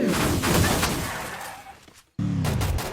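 Fast automatic gunfire in Free Fire, a dense barrage of cracks that thins out, drops to silence for an instant, then bursts back in loudly.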